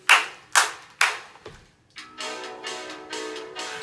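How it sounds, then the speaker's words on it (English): Children at a storytime session clap their hands three times together, three crisp, evenly spaced claps, followed by a pause and then a longer, noisy stretch of group sound. "clap your hands 3 times."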